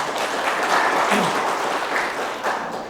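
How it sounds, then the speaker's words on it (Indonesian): Applause from an audience at a regional party congress in Banjar, a steady broadband wash of clapping filling the whole stretch, with a faint voice briefly audible beneath it. "Tepuk tangan untuk semuanya."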